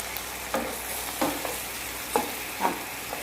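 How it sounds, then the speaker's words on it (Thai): Young green chilies are stir-fried in a pan for vegetarian Thai sweet and sour eggs, with a steady sizzle and several distinct scraping stirs of a utensil, close and alone. "ใส่พริกลงไปแล้วค่ะพริกหนุ่ม"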